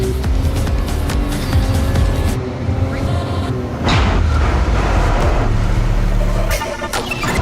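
A Nissan Rogue drives fast through a flooded road test at a proving ground, its engine roaring loud and steady with a rising rush of water and spray near the middle, and no talking.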